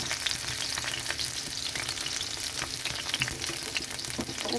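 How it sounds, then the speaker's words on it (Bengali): Pieces of capsicum fry in hot oil in a pan for an omelette, giving a dense, even crackling sizzle close up that holds steady throughout with no talking. "তেলটা গরম হয়ে গেছে। তো এখানে আমি ক্যাপসিকামগুলো এরকমভাবে দিয়ে দিচ্ছি।"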